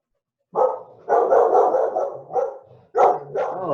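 A pet dog barks repeatedly indoors in a series of loud, close woofs and yips, in short bursts separated by brief gaps, with no talking over it.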